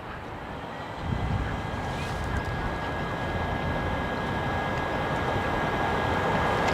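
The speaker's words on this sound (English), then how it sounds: "And this is an A320." A Jetstar Airbus A320 airliner at Gold Coast Airport gives off a steady, broad engine roar with a faint high whine running through it, holding at an even level from start to finish with no talking.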